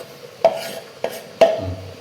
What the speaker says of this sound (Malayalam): എല്ലാം കൂടി ഒന്നും കൂടി യോജിപ്പിക്കുക